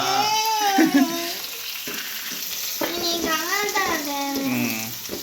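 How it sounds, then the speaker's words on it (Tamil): Bitter gourd sautéing in a pan makes a soft, steady sizzle, with occasional stirring scrapes, heard beneath voices talking nearby throughout. "ஒரு ரெண்டு நிமிஷம் அப்படியே விடலாங்க நல்லா வதங்கிட்டு இருக்கட்டும்"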